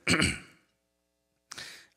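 A single harsh cough or throat clear, followed by a pause and a shorter second one, close and fairly loud.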